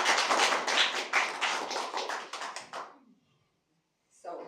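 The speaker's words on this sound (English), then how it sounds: "So give a hearty applause for Raina." An audience applauds a speaker at a DevOps talk, a dense burst of clapping that fades out after about three seconds, followed by silence and then a person beginning to speak.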